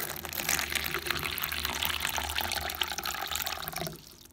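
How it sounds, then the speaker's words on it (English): Water poured or trickling into the enclosures of pet tarantulas, a steady splashing, dripping flow close by that runs evenly for about four seconds and then stops abruptly. "Just giving you water, so behave yourself."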